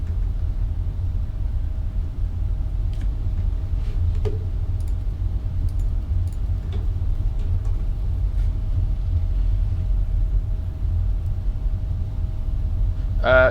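An easyJet Fenix A320 in Microsoft Flight Simulator rolls out after landing with reversers and braking, a steady heavy low rumble throughout, with a few faint clicks and ticks and no voices.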